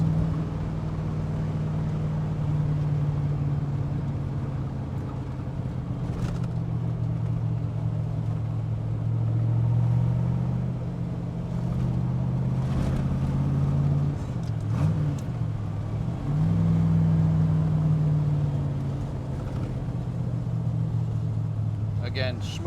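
A 1966 Chevrolet Corvette coupe with a 427 V8 rumbles steadily while driving, its deep engine note rising and dipping through a downshift around the middle, heard from inside the cabin with someone talking over it.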